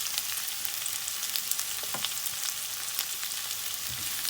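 Onions with a pinch of salt sizzling steadily in a pan for village-style fish curry, a constant close hiss of frying with a couple of soft stirring scrapes, no talking.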